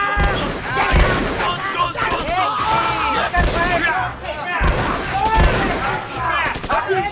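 A rapid, noisy jumble of popping bursts from shots fired into the air, layered with loud overlapping voices and shouting throughout.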